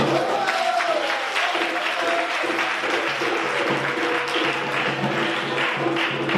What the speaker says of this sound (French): pour que les applaudissements soient pour tout le monde